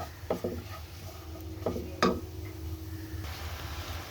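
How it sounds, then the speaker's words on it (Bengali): Broken wheat (dalia) is stirred and lightly fried in a pan, with a few sharp scrapes and knocks of a spoon against the pan over a soft background, followed by a quiet steady hiss. "এবার ডালিয়াটাকে দিয়ে দিলাম, এর সাথে একটু ভাজা ভাজা করে নেব।"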